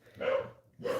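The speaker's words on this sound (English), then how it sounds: "Got my dog barking." A dog barks twice, close and fairly loud, the two gruff barks spaced about half a second apart with a breathy edge.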